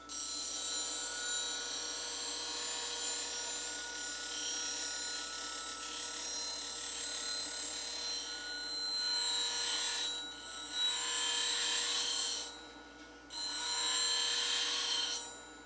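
A long woodturning scraper is sharpened on a D-WayTools radius-edged CBN grinding wheel, giving a steady high ringing hiss from the spinning wheel with scraping bursts as the steel meets it, no talk.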